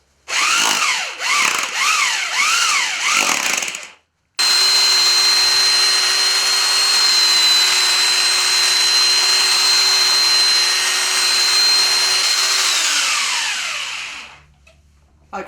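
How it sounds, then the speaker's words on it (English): Power drill fitted with a whisk mixing Artex compound: a few short revving bursts, then a long steady high whine that winds down near the end, loud and close with no talk. "Once you get it thoroughly mixed, then you can give it a good old whisk up"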